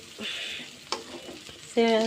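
Rice is fried and stirred in hot oil in a pan for khichuri, with a soft, close sizzle and a few scraping strokes. A louder burst of frying comes at the end.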